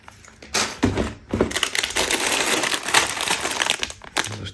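Crinkly plastic Lego polybag packets rustle and crunch close up, starting in a few sharp crackles, then settling into a steady stretch of handling with no talk.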